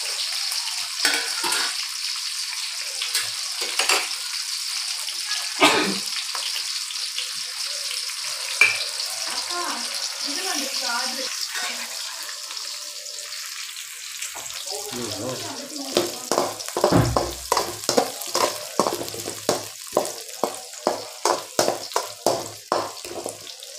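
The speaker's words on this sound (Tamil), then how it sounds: "நல்லா சவப்பாகிற அளவுக்கு நம்ம வதக்கணும்." Small onions sauté in a pan, a steady close sizzle at first, then a run of rhythmic scraping stirs knocking against the pan toward the end.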